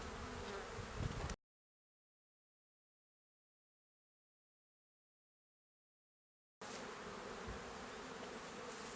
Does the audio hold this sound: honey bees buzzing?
yes